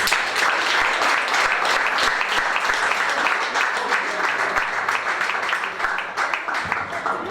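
Sustained audience applause for award-winning students at a school sportsmanship prize ceremony, a dense, lively clapping from a sizable crowd that holds steady for about seven seconds before easing slightly toward the end.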